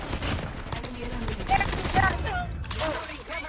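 Gunfire in a video game rattles in quick repeated bursts, loud and close, while players talk over the shots.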